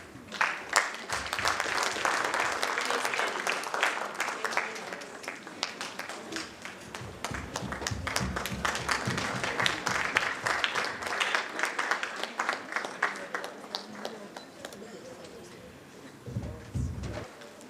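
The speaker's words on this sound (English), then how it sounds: "Can we welcome him with a warm round of applause as he comes on stage to do closing remarks." Warm audience applause at a leadership summit in Lesotho greets a speaker coming on stage for closing remarks; the clapping swells and fades in waves, with brief quieter gaps.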